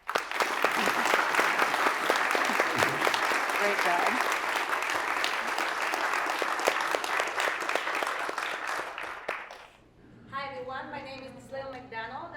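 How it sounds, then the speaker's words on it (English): Audience at a conversation event with a philanthropist breaks into loud, sustained applause for about ten seconds, then fades as a voice speaks briefly afterward. "can we give a round of applause"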